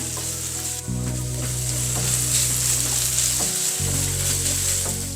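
Onions and about 150 grams of meat frying in oil in a pan, a loud, steady close-up sizzle with faint stirring scrapes and no voices.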